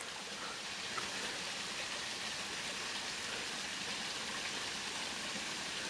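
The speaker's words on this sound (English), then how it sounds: "Look at this waterfall." A waterfall in Solstice Canyon pours with a steady broadband rush of falling water, continuous and even, with no voices.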